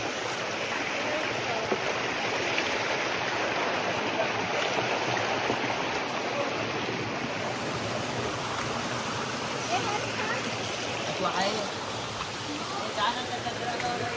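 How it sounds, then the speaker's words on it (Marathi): A forceful jungle stream near Dhareshwar rushes in a constant, loud, broadband wash of water that continues without a break. Voices can be heard over it. "पाण्याचा फोर्स बघ किती आहे."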